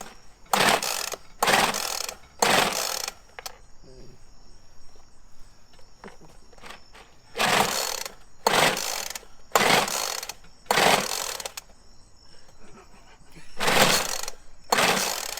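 Pulls on the starter cord of a two-stroke blender engine: about eight sharp, raspy ratcheting bursts, close and loud, in a quick cluster of three, then a pause, then five more spaced pulls.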